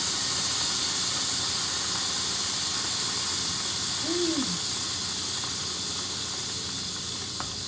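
Grease sizzles in a hot pan while birds are fried, a loud, steady broadband hiss that fills the whole stretch without pause, with one brief low squeal partway through.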